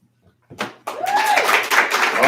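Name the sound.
audience clapping for a poet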